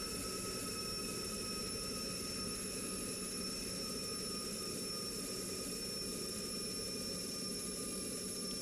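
Jet fighter engine in Strike Fighters 2 running at full 100% power through the takeoff roll, a steady loud roar with a broad rumble and sustained high whine, unbroken and close throughout, no talk.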